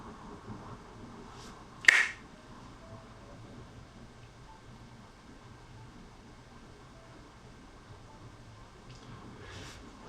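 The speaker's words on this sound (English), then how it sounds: "When I snap my fingers, wake up." A single sharp finger snap near the start rings out against a quiet, faintly humming room, with a soft click at the very end.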